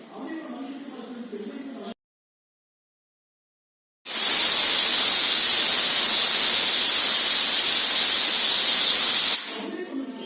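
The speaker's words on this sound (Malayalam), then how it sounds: "കുക്കർ 1 വിസിലടിച്ചു." A stovetop pressure cooker cooking jackfruit lets out one loud, steady, close blast of hissing steam that lasts about five seconds after a brief silence, then cuts off sharply.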